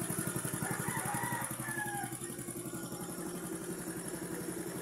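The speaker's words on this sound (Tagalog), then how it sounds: "Tahimik makina yan." Stock engine of a Yamaha Mio Soul motorcycle idling with stock carburetor and airbox, a steady, quiet mid-pitched putter with a rapid even pulse, heard close and alone.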